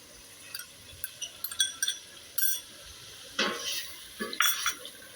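Spoon stirring and clinking in a pan as yogurt-laced masala for gobi chicken is fried, scattered scrapes and taps with a faint sizzle underneath.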